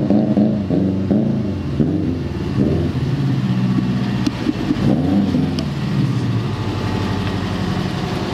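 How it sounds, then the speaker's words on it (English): A white fully forged turbocharged Toyota GT86 making 400 brake horsepower drives by close and loud, its engine a steady throaty drone with shifting pitch throughout. "A fully forged turbocharged GT86 with 400 brake horsepower"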